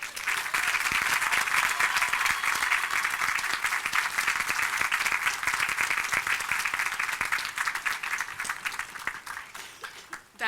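Sustained, dense audience applause at a graduation ceremony welcoming speaker Deborah Richardson, steady and loud for about ten seconds before fading out near the end.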